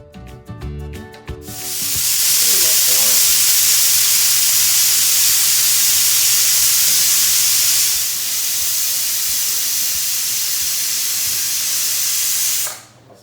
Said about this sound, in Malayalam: ഹൈ ഫ്ലെയിമിൽ വെച്ച് ഒരു വിസിൽ വരുന്ന വരെ വെയിറ്റ് ചെയ്യുക